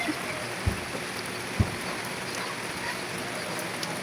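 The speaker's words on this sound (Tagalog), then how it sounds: "Umuulan." Rain falling outdoors, a steady dense hiss that fills the whole stretch, with a couple of soft low thumps in the background and no clear talking.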